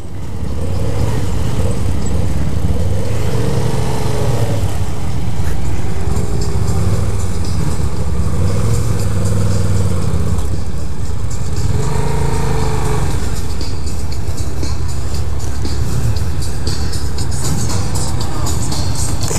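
A white 2015 Yamaha FZ-07 motorcycle being ridden, its engine droning loudly and continuously with pitch rising and falling through gear changes, heavy wind rumble over the whole stretch.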